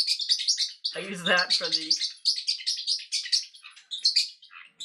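A pet bird chirps and tweets indoors in quick, bright bursts that keep going throughout, while someone speaks briefly over it near the start.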